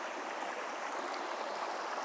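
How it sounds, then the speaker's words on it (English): A small brook runs through woodland trout water, a steady, close, even rush and babble of flowing water with no breaks and no voices over it. "Small little brook setting."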